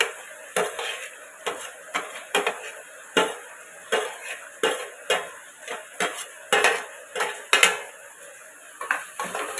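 Vegetables (beans, carrots, potatoes and green chillies) are tossed into a pot and stirred for a vegetable biryani. Repeated metallic scrapes and clinks of a spoon against the pot come in a steady rhythm, close and fairly loud, with no talking.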